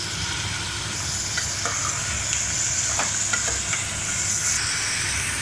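Onion, curry leaves, coriander, drumstick and tomato fry in a pan with a steady, loud sizzle and hiss, broken by a few sharp stirring scrapes near the middle; no one speaks.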